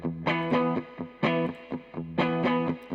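A distorted electric guitar plays a choppy, rhythmic riff of short repeated chords, thick and slightly doubled in tone, with no voices.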